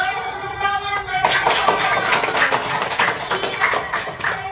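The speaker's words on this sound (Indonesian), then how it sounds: "Boleh tepuk tangan bagi" Classroom applause from schoolchildren in an Indonesian class, a burst of dense hand clapping that starts abruptly after a second of quieter room noise and carries on steadily, close and fairly loud, with children's voices mixed in.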